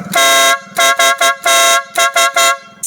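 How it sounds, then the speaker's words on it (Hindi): A pressure horn fitted to a Suzuki GS 150 motorcycle blasts loud and close in a rapid series of about seven honks. Some are long and some are short, with brief gaps between them and no talk. "यहाँ से बड़ा प्रेशर हॉर्न ऑन हो जाएगा। अब आपको आवाज़ भी चेक करवाते हैं।"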